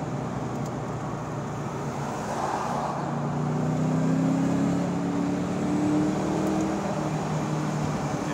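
A 2004 Ford Mustang SVT Cobra's supercharged 4.6 engine drones steadily up close, its pitch sliding through downshifts as it pulls and accelerates, with constant road noise underneath.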